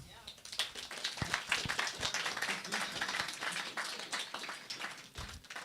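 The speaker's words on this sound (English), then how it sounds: "I want an applause here." A fireside chat audience on banks and crypto breaks into applause, a fairly faint, uneven patter of clapping that swells and fades, with talk mixed in around it.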